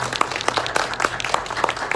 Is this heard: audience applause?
yes